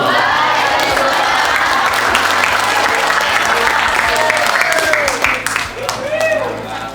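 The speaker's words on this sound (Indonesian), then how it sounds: "Tepuk tangan sekali lagi buat Kak Chandra." A seminar audience on stress among teenagers breaks into sustained, dense applause that holds steady for several seconds, then thins and fades near the end as voices rise over the clapping.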